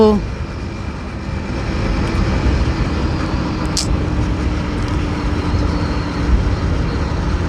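A car drives along a road toward sunset while overtaking, with a loud steady engine and road roar throughout and a brief sharp high click near the middle.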